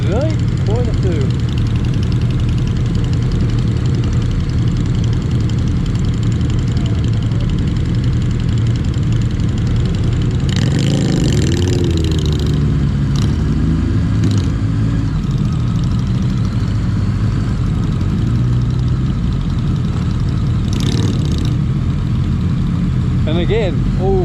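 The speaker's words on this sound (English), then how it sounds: "all sorts of bikes, sport bikes, cruisers, adventure bikes, you name it, we got them all here today." Many motorcycles, sport bikes, cruisers and adventure bikes, idle together at an outdoor bike meet, a steady loud engine rumble with occasional revs, heavily distorted, with people talking throughout.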